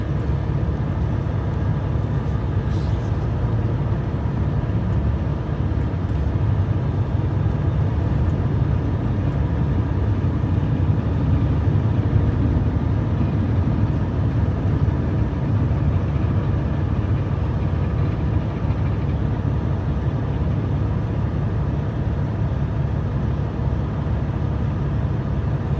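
A truck engine idling nearby, a steady low rumble that holds unchanged throughout with no talk over it.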